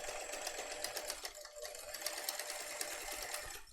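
A Bernina domestic sewing machine stitches through a tote bag in a steady, rapid mechanical whir that dips briefly midway, heard faintly with no voices.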